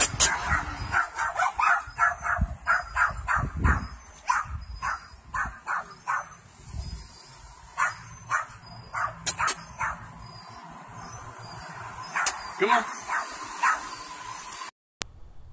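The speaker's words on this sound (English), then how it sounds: "my dogs are sitting in the background like nothing's going on, barking and yiping like they're big shots" Pet dogs in the background, among them a pit bull mix, give dozens of sharp barks and high yips in irregular bursts over the whole stretch, fairly close and fairly loud, with no talk over them.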